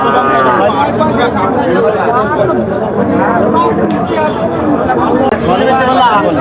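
Dense, steady babble of many voices talking at once, a busy outdoor cattle market crowd with overlapping conversations close by and no single voice standing out.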